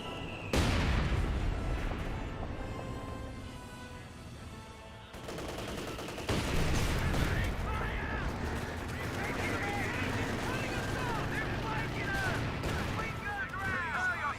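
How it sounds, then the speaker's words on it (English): Company of Heroes 2 battle with mortar impacts and machine-gun fire rattling and booming continuously and loudly as a dense wartime din, while a voice talks over it. "Double mortars are hitting that"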